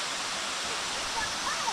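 A waterfall at Silver Falls State Park, Oregon, gives a steady, even rush of falling water for a brief moment, with faint voices barely over it.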